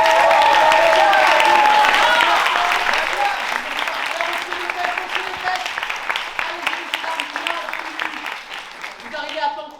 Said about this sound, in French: Alors on va applaudir ces gens qui arrivent en retard.